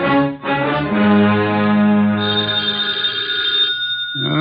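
An old-fashioned telephone bell rings loudly in a radio drama scene, a sustained bright metallic tone that holds for several seconds and then cuts off.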